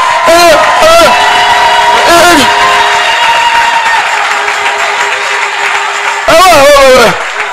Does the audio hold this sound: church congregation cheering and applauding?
yes